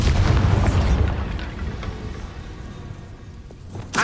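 A Bombarda spell explosion in Hogwarts Legacy bursts in a loud, deep boom, then rumbles and fades over several seconds before a brief sharp pop at the end.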